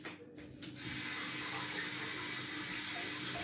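Water runs steadily from a tap into a sink while hands are washed in a kitchen, a constant close splashing hiss that starts after a few soft clatters and continues alone.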